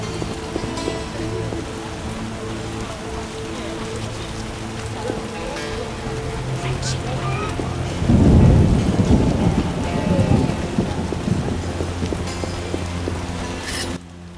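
Heavy rain pours steadily in The Witcher video game, with a loud rolling thunderclap swelling midway before easing back into the constant downpour.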